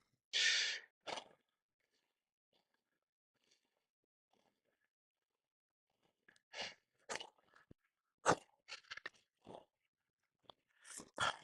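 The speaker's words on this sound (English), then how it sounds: "Ooh, breathing heavy." Heavy breathing after a garage gym workout: a loud exhale at the start, then near silence, then a series of sharp, close gasps and breaths in uneven bursts.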